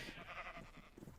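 Sheep bleat faintly in a video game while livestock gather on a farm, a short wavering cry with no talking over it.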